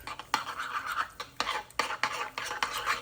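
A spoon mixes a dip with chili garlic chutney in a bowl, making close, rhythmic wet scraping strokes, roughly two per second, with no talk over them.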